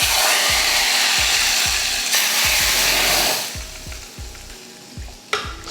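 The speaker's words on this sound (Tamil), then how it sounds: "தாளிக்கிறதுக்கு ஒரு பாத்திரம் வச்சு எண்ணெய் நல்லா காஞ்சதுமே கடுகு உளுந்து, கொஞ்சம் கருவேப்பிலை" Mustard seeds, urad dal and curry leaves crackle and sizzle in hot oil for a tempering, loud and close, with a rhythmic scraping pulse beneath that fades as the frying quiets toward the end.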